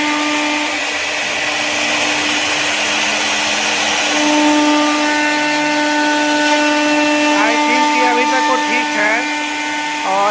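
A CNC router machine cutting MDF or plywood gives a loud, steady high-pitched whine with harmonic tones that shift and waver near the end, running continuously throughout.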